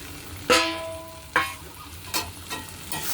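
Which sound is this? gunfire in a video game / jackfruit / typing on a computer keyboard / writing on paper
jackfruit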